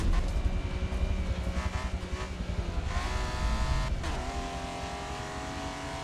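Race cars in a Forza Motorsport race with 24 cars on track, engines droning and revving loudly at close range, one car shifting up through gears with a rising whine while others buzz around it.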